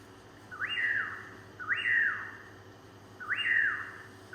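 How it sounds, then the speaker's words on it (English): A nightclip crow, a bird native to Valoria, gives three rising whistled calls at steady intervals, each clear and fairly close against a quiet background. "Nightclip crow."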